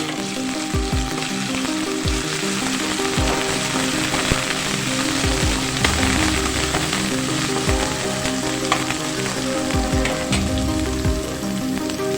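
Ginger-garlic paste sizzling and frying in a hot pan while cooking a wild vegetable bhaji with dal, a steady close crackling hiss with scattered pops and occasional stirring scrapes.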